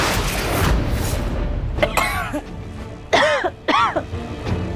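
Several harsh coughs from burning chillies, in quick bursts, close and loud, over a steady background hum.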